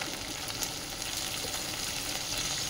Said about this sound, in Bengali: ভেন্ডিগুলো খুব ভালো করে এই যে তেলে ভেজে নেব